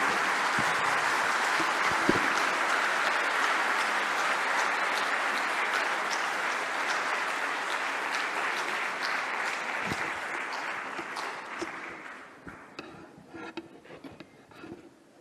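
A large audience applauds Chief Minister Yogi Adityanath in a long, dense burst of clapping that holds steady, then thins out and breaks into scattered individual claps toward the end.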